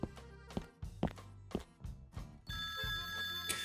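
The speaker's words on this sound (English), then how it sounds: "The phone is ringing." A telephone rings in the horror video game Terrors to Unveil, with a steady electronic ring that fills the second half after a few dull thuds and footsteps, close and fairly loud.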